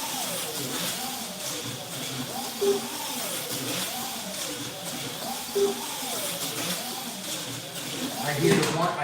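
The motor of a spec racer car at a raceway whines as it winds up, its pitch rising and falling in a repeating wave. It sounds fairly faint under a hissy background, with a few short louder blips.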